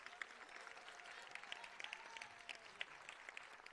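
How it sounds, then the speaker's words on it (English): Graduates and families clap at an undergraduate nursing pinning ceremony, a faint, even patter of applause heard from a distance with a few sharper claps standing out. "give yourselves a round of applause"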